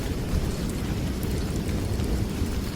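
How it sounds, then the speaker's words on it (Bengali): Heavy rain pours in a steady, dense roar with a deep rumble of thunder underneath, loud and unbroken throughout. "বাইরে ঝমঝম বৃষ্টির শব্দে ভেতরটা কাঁপিয়ে তুলছে"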